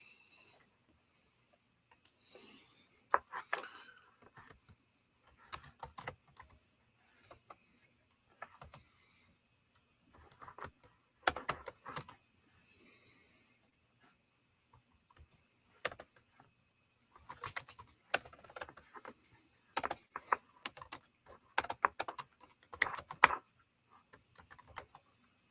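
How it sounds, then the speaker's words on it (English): Someone types on a computer keyboard in irregular bursts of clicks and taps, close and quiet, with pauses between runs of keystrokes. "I got to clear off my keyboard so I can actually type"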